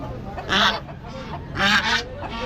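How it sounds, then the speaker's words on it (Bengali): Two loud, harsh goose honks close by, spaced about a second apart, with softer honking and cackling around them outdoors. "আর এদিকে এগুলো তো রাজহাঁস"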